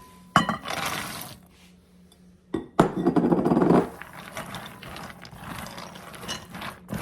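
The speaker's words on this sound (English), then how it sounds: "we are going to add our almonds to this bowl, and we are going to stir until they are completely coated with the egg white" Almonds are stirred into egg white in a bowl, giving bursts of rattling, clinking clatter against the bowl that start and stop, with quieter pauses in between.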